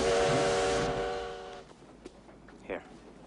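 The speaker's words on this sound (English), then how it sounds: "Train from Boston is arriving on track 29." A steam locomotive's whistle sounds as a train arrives at a station, a loud sustained multi-toned blast that fades after about a second and a half, followed by quieter hissing and scattered station noises.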